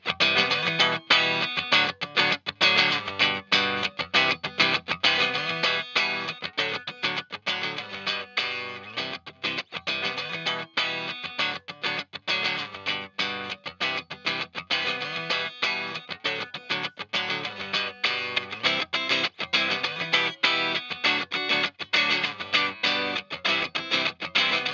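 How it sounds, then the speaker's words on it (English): Layered electric guitar chords built up on a looper pedal, dense distorted, chorus-tinged strumming repeating continuously for the whole stretch, loud and close with no voices. "I'm going to fire up my looper pedal just so you can hear it the way it would be heard on the record"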